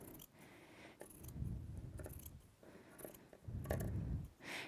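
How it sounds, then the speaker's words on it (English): Fabric scissors cutting cloth around paper pattern pieces for a dress, quiet close-up snips and crunching blade strokes in short irregular bursts with soft rustling of fabric between them. "Take your fabric scissors and cut around your pattern pieces."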